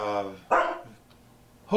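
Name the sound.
dog barking at front door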